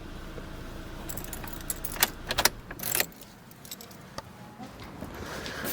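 Keys jangle in a quick metallic burst as a 10th-generation Honda Civic 2.0 with its engine running is switched off, its low idle hum fading away beneath the clinking.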